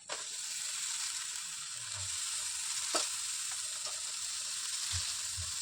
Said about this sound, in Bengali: এখন এই যে কেটে রাখা বাঁধাকপিগুলো দিয়ে দিব এখানে।